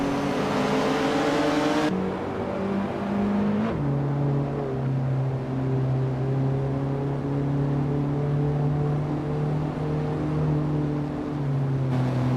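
Retro-class race cars circling the Dubai GP track in a video game, a steady loud engine drone with abrupt gear-shift pitch drops and sustained revving, nearby and continuous.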